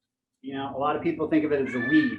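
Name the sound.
cat meowing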